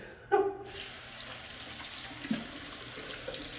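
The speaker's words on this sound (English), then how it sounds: "I just stand under the shower and just rinse it" Shower water runs steadily as locs are rinsed under the spray, a continuous soft hiss with a brief louder splash near the start and another small splash midway.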